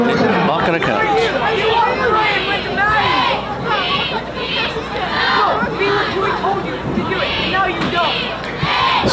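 Dense crowd chatter and cheering at a high school football senior night, a steady loud hubbub of many voices with excited shouts rising throughout.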